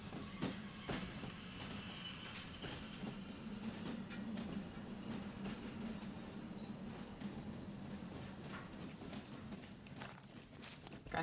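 A train rolls along the track in the railway game Derail Valley, giving a steady rumbling drone with a string of sharp rhythmic clacks and knocks throughout.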